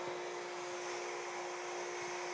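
A workshop suction machine runs at reduced suction with a steady, even hum and a sustained tonal whine, constant and moderately quiet for the whole stretch, with no talk.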